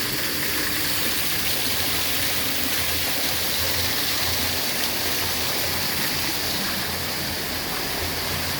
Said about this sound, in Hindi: कुछ इस तरह का बनाया गया है झरना।